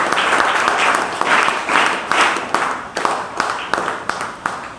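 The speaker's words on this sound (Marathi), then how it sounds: "पहिल्यांदा सुरुवातीला आपण टाळ्या वाजवून त्यांचा आभार मानू" An audience claps together to thank guests at a youth council event at a forest-dwellers' ashram, loud and close, the clapping fading into rhythmic bursts that gradually slow and thin out.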